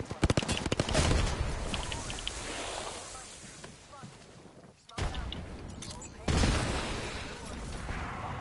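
Rapid bursts of automatic gunfire from the video game Apex Legends, loud and close, in dense volleys with brief lulls, while a voice talks over the gameplay.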